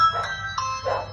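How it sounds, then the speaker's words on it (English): A short electronic doorbell chime from a Nutone chime triggered by a Ring Doorbell 2 rings out, three bright tones in quick succession, close and clear. "now when I push the Ring doorbell, it rings here"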